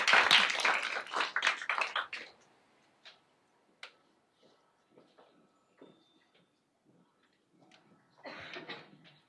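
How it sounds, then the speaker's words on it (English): Audience applause for speakers at a women leaders in tech panel discussion, a burst of clapping that dies away into sparse taps and small room noises, then a short swell of clapping again. "So let's give everyone a round of applause."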